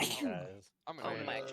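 A sneeze bursts out abruptly between stretches of overlapping talk during an online game session, short and close, with several voices chatting right before and after.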